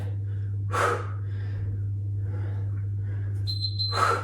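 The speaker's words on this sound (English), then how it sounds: "Nice noisy exhales." Loud, close breathy exhales during a yoga HIIT workout, about three forceful gusts of breath with softer breaths between, over a steady low background hum.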